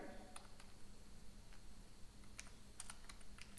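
A command is typed on a computer keyboard in a console, a quiet run of soft key clicks with a few sharper taps, heard alone.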